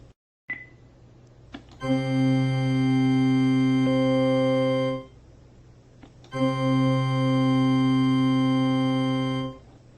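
Two long sustained organ tones, each held for about three seconds with rich steady harmonics and a short silence between them.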